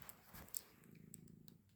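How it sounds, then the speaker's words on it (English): A domestic cat purrs very softly close by, a low rumbling flutter in quick, even pulses with faint rustles and taps around it. "So I'm going to have to move my cat because he will be in the way."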